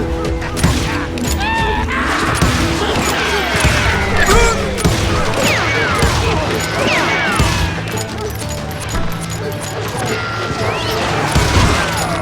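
Gunfire in the western shooter Call of Juarez Gunslinger: rapid, repeated shots and cracks scattered across a busy battle, with ricochet-like whines and some voices mixed in.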